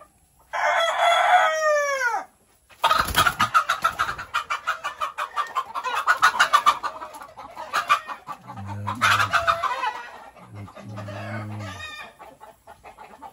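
A rooster crows loudly and up close, then hens cluck repeatedly with scattered bird calls, followed by another crow and more clucking.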